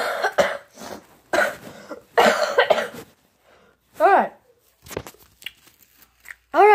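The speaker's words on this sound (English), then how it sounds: "I have to cough for a minute." A person coughs repeatedly into a covered microphone, producing a series of muffled coughs and throat-clearing bursts separated by short pauses, close and dampened.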